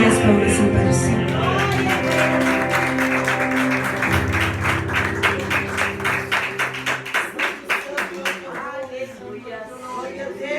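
Church congregation clapping hands during a worship service, the rhythmic claps growing more distinct and steady toward the end over sustained music and singing.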